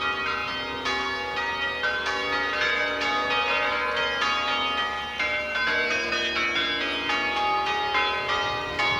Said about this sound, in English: you got to know what you're doing to ring those bells